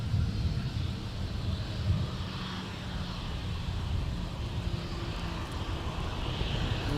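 A Delta airliner takes off from runway 17 at Minneapolis airport, a broad steady engine roar with low rumble and wind buffeting, sustained and moderately distant.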